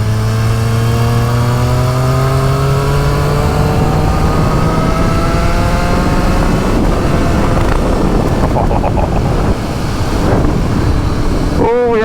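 Triumph Street Triple 765RS, 2023/2024 model, with decat Akrapovic full exhaust and Spark headers, revving and pulling through rising gears on a road ride, loud and continuous, with strong wind rush throughout.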